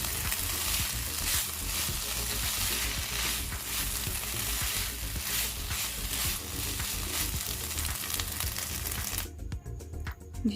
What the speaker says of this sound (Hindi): चिकन कीमे को हम 1 से 2 मिनट फुल तेज़ आग पे पका लेंगे